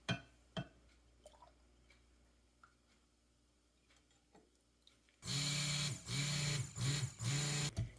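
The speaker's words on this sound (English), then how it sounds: "I think I'm going to go ahead and stick blend this together" A stick blender whirs through soap batter made with coffee lye in short, loud bursts after a quiet stretch with a few faint clicks.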